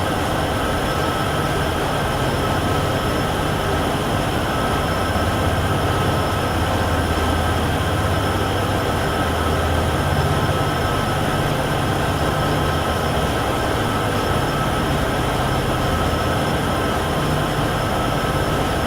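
A mile-long freight train on the Cheyenne–Laramie route in Train Sim World 6 gives a loud, continuous rumble and roar. Steady rolling wheel and engine noise carries on unbroken throughout.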